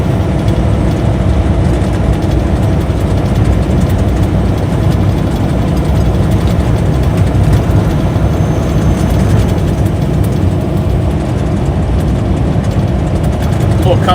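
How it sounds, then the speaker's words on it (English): A Cummins engine idles in a Peterbilt truck on a morning local run near the beach, a loud, steady low rumble that runs unbroken for the whole stretch, heard from close by. "Cummins ASMR this morning."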